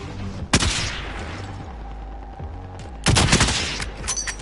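Two loud, sharp gunshots with rolling echoes in a battle royale video game, about two and a half seconds apart, each trailing off over a low background hum, with no talking.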